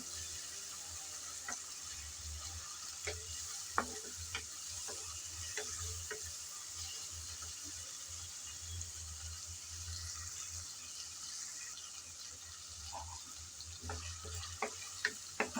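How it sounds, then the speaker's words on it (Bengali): Ginger, garlic and onion stir-fry in a pan with a steady, low sizzle, while a spatula scrapes and taps against the metal now and then, sharper near the end. "এখন আবারও আদা রসুন পেঁয়াজের সাথে নেড়ে চেড়ে ভেজে নেব"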